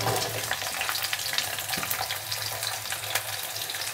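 Garlic cloves and small whole onions dropped into hot oil, with mustard seeds spluttering: a dense, continuous sizzle full of rapid pops and crackles, close and loud, with no talking.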